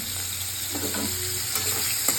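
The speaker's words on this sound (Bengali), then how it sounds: "চিংড়ি মাছটা দিয়ে দিলাম" Prawns dropped into hot oil in a pan to fry alongside onion and bitter gourd, giving a steady close sizzle with a few soft stirring scrapes and bubbling bursts.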